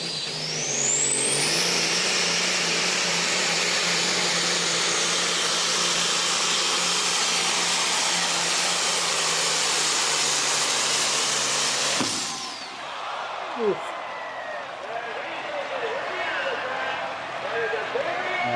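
A semi truck engine roars at full power during a truck pull, a loud sustained high-pitched blowing howl that cuts off abruptly near the end, followed by quieter crowd and arena noise.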